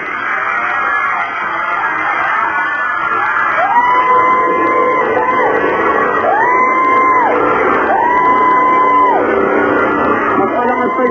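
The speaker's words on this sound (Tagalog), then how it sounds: "Magpalakas pa yung sigaw ni Alan." On a Filipino TV variety show, a crowd yells and shouts loudly and continuously, with rising, sustained whoops repeating three times over the dense noise.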